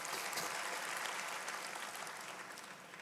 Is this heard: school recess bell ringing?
no